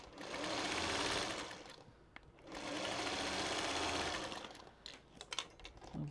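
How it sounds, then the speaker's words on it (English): A sewing machine stitches a quilt in two steady whirring runs of rapid needle chatter, separated by a short pause, ending in a few scattered clicks and taps. "And then we'll start stitching."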